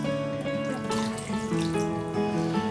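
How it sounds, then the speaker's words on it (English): Bourbon turkey brine pours from a container over a whole turkey, a close, continuous splashing trickle of liquid lasting a few seconds. "we're simply just going to take this turkey brine and just pour it on the turkey"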